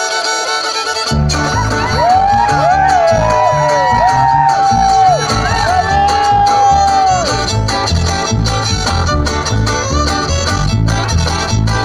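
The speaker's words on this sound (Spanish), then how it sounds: "Aplauso." A loud crowd at a patron saint festival coronation in Santo Domingo cheers, whoops and claps steadily, with music and shouting voices mixed into the dense, continuous noise.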